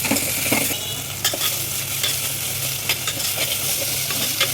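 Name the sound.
stirring mutton curry after adding salt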